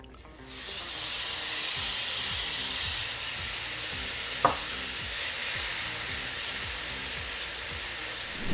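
Sugar syrup poured onto hot toasted semolina for a quick semolina halawa bursts into a loud, close steamy sizzle that gradually settles into steady frying hiss, with a clink of utensil partway through.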